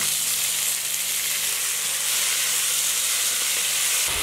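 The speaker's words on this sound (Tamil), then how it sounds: "வரமிளகாய் நல்லா பொரிஞ்சிடுச்சு, ஜீரகம் சேர்த்துக்கலாம்" Dried red chilies and cumin seeds sizzle in hot oil, a loud, dense, continuous frying hiss close by with no talking.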